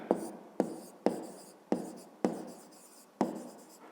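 Hand writing on a surface while solving a fifth-grade maths exercise on a rectangle's perimeter: distinct scratchy strokes land in a steady rhythm about every half second, close and clear, with no voice over them.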